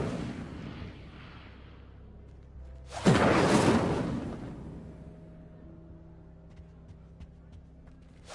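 An Incendio fire spell is cast in Hogwarts Legacy: one sudden loud whooshing blast of flame that flares up and then trails off into a fading crackle, with low rumbling game ambience before it.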